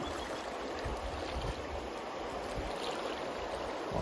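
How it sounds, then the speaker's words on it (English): A canoe heads into class 5 river rapids in Montana, with a steady, rushing wash of fast water close by and continuous low churning turbulence, no voices heard. "we have some class 5 rapids coming up"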